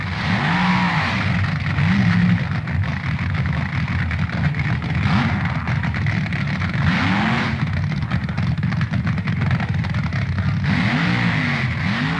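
Drag racing cars at the 1969 NHRA Nationals, a pair of California pro machines, one resembling a Mustang coupe, roar loudly and continuously with engine revs rising and falling and sweeping pitch as they pass.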